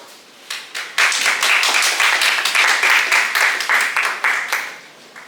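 An audience at a high-school Malay-language speech contest in a national Chinese independent secondary schools trilingual competition applauds. A few scattered claps swell at one second into full, lively applause that tapers off near the end.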